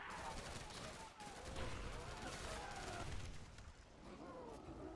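Dense Call of Duty: World at War zombies firefight, with a continuous roar of gunfire and blasts that includes a grenade explosion, loud and close, under occasional voice.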